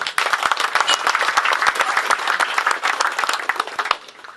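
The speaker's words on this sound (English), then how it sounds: "please give him a round of applause" Applause at the prize giving of a national carp angling championship. Many hands clap loudly and close by in a dense, lively burst that fades slightly at the end.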